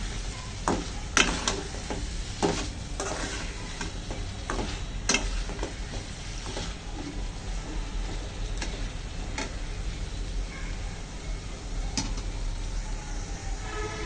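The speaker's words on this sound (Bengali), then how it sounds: "ভালো করে কষানো হচ্ছে" Chicken sautéed in a pot for Bengali murgir bhuna, with a steady sizzle and frequent clinks of a spoon scraping and stirring against the metal, close and continuous.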